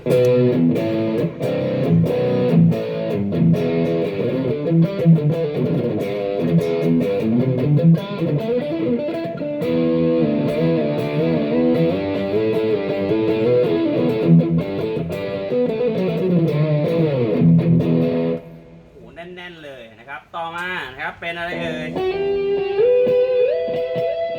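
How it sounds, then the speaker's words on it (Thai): Electric guitar through a BOSS GT-1 multi-effects pedal set to distortion plays a busy, gritty riff that thins into bending, wavering notes near the end, steady and loud throughout. "ต่อมาเสียงแตกนะครับ"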